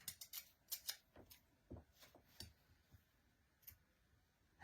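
Scissors snip in a quick run of sharp, crisp cuts, several close together early and then more spaced, all faint and close with no talk over them.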